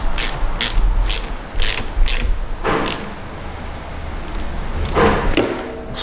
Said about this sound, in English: Snug that one up to the appropriate torque spec.